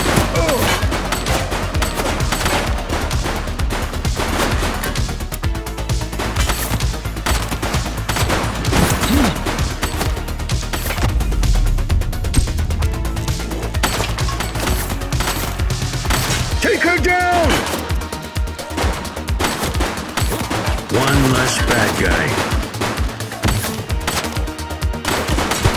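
Dense bursts of gunfire from the police action game The Precinct, rapid volleys and single shots crackling loudly almost continuously, with sirens and shouted voices mixed in beneath.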